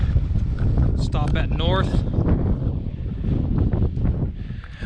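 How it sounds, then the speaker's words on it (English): Strong wind buffets the microphone on a mountain summit in the Kinsmans, producing a loud continuous low roar and rumble while a person speaks briefly over it. "it's very windy up here"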